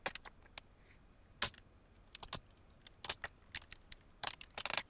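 Keystrokes on a computer keyboard entering code, sparse clicks in short irregular bursts with pauses between, fairly close and light, no voices.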